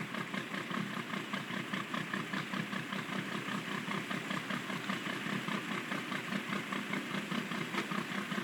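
The six-wheeled Encontra 1160 tractor idles steadily in a farming video game, a continuous rumbling engine drone with a faint regular pulse, close and even throughout, with no voices.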